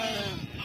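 A flock of sheep and lambs in a grazing pasture bleats close by, a short burst of overlapping wavering calls heard on its own without talk.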